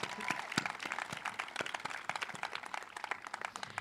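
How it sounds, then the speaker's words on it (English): Scattered applause from a graduation crowd, a dense patter of hand claps at moderate distance, fairly soft and steady throughout. "Round of applause."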